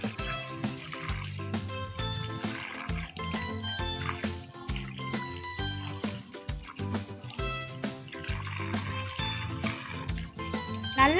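Running tap water splashes continuously while country chicken pieces are washed under it in a kitchen, with clattering and handling noises throughout, partly masked by loud background music.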